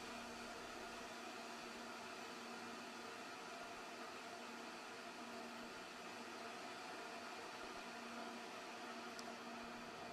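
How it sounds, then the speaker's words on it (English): Air vents steadily from the Red Bull Stratos capsule as it depressurizes at about 127,900 feet in 2012, a continuous even hiss with a faint hum, unbroken and without voices. "Felix is depressurizing the Stratos capsule to ambient outside barometric pressure"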